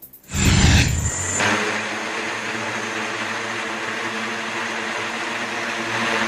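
SkyDrive manned compact flying car prototype hovering on eight propellers, a loud burst of whooshing rotor noise at the start settling into a steady mechanical hum and whir that continues throughout.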